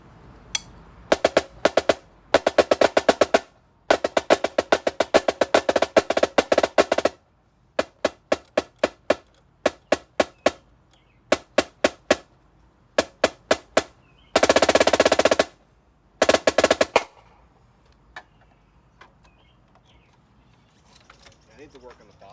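A Dynasty marching snare drum is struck while being tuned, producing sharp, rapid bursts of rolls and single cracks with short pauses between groups, including one sustained buzzing roll, close and loud.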